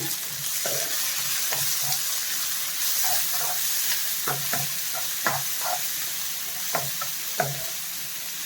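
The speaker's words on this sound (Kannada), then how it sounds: "ಎರಡು ಸಣ್ಣ ಈರುಳ್ಳಿ ಕಟ್ ಮಾಡ್ಕೊಂಡಿದ್ದೆ ಅದನ್ನು ಹಾಕೋತಾ ಇದ್ದೀನಿ" Chopped small onions sizzle and fry in a pan for potato masala bonda, a steady close hiss broken by repeated scraping stirs, with no talk.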